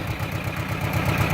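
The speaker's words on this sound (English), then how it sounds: "So in good heavy dirt, that tiller's working the tractor pretty dang good." Allis Chalmers 5020 tractor engine pulling a tiller through heavy dirt, a steady low rhythmic chugging with a fast regular pulse, close and moderately loud, no voices.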